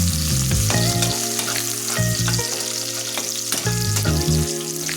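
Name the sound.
onions frying in a wok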